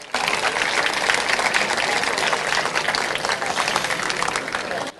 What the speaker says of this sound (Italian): Un applauso per Edoardo Fainello.